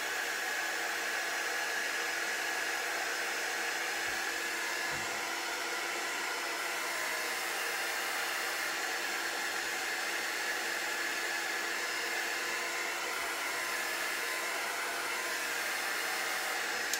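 A heat gun or hair dryer blows steadily on paint, a continuous broadband whoosh of moving air held at even loudness throughout, close to the microphone, with no talking.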